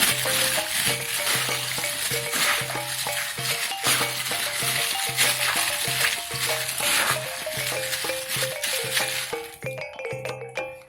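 Seasoned chicken sizzles steadily in a pan while being stirred, spatula scrapes and clinks repeating rhythmically over the constant frying hiss, close and clear, ending in a brief quieter pause.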